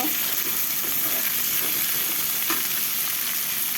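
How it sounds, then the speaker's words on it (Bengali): Onions and chopped garlic frying in oil in a pan, a dense, loud, continuous hiss of sizzling with faint stirring bumps underneath, close up and with no voices. "পেঁয়াজ ভাজি হয়ে গেছে এখন রসুন কুচি দিয়ে দিব একটু মেরে দিব"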